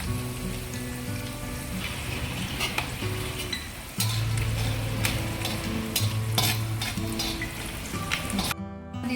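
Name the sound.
curry leaves and asafoetida sizzling in hot oil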